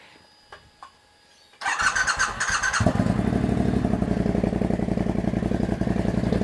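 A Triumph Bobber motorcycle starting up nearby after a few faint clicks, then settling into a loud, steady, throbbing idle with a deep pulsing exhaust note that carries on alone.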